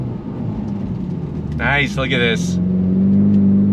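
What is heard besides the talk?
Ford Mustang EcoBoost accelerating from a dead stop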